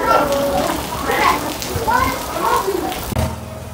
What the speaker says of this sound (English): This rain is really serious.